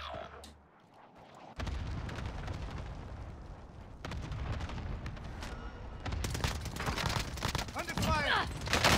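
Heavy gunfire and explosions from a Call of Duty match on Rebirth Island erupt in dense, rapid bursts that build to a loud, chaotic barrage, after a brief lull near the start.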